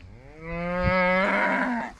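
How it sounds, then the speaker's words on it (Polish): One long, loud mooing call from a cow on a lucerne pasture, heard close up, swelling and then fading over about two seconds with no talking. "Biegną krówki."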